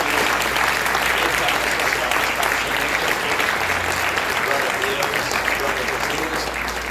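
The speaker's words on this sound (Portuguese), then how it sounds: "Você pode dar uma linda salva de palmas para o Senhor." A church congregation gives sustained, dense applause at a worship service, steady and loud for several seconds, with a faint low hum beneath the clapping.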